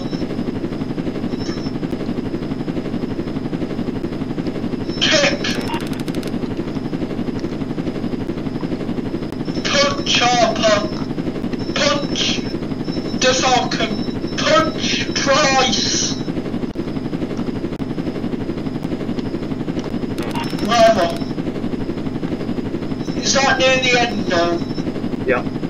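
A helicopter flies in the Roblox Jailbreak game, a steady droning rotor hum running throughout at constant loudness, with scattered bursts of gunfire over it.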